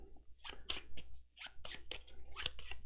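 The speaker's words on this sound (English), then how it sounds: "we'll just give it a quick shuffle" A deck of board game cards for Tidal Blades being shuffled by hand: a quiet series of crisp, riffling card bursts in quick irregular pulses, close and alone.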